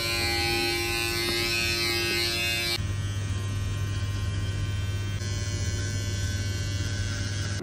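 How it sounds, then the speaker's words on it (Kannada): An electric body trimmer running without its brush attachment gives a steady, loud mechanical buzz with a tonal hum, which shifts pitch abruptly partway through and keeps droning continuously without any voices. "ವಿತೌಟ್ ಬ್ರಷ್ ಬಾಡಿ ಟ್ರಿಮ್ ಮಾಡೋಕ್ಕೆ ನೋಡಿ."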